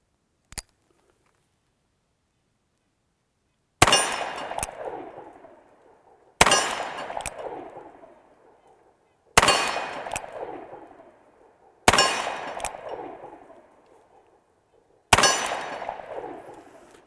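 Five loud revolver shots from a 500 Smith & Wesson handgun with a chronograph attached, each a sharp crack with a ringing decay, spaced a few seconds apart outdoors, preceded by a faint click.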